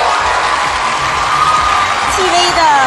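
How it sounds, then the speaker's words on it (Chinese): Fans of actress Qi Wei in a studio audience greet the guests with a loud, steady wash of crowd applause and cheering, with shouts rising over the clapping throughout. "我们先掌声欢迎大家。"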